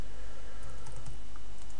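Typing on a computer keyboard while entering a web address in a browser, a short run of soft, close key clicks over steady low background hum, no talking.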